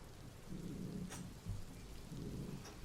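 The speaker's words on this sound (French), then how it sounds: "Et t'as la pluie, l'orage." Rain pours steadily while low thunder rumbles and rolls through the storm, with a sharper crack in the middle.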